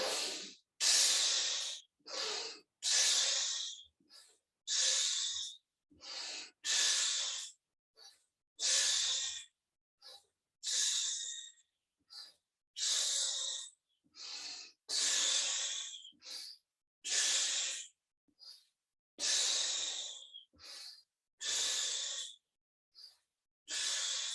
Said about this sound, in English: And now together we exhale.